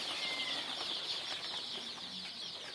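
A dense chorus of local-breed chicks in a brooder cheeping nonstop, shrill and steady, with faint rustling underneath and no voices.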